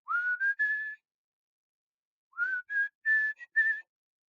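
A person whistles two short phrases of rising then steady clear notes, the first phrase of about three notes and the second of about five, with a silent gap between them and no other sound.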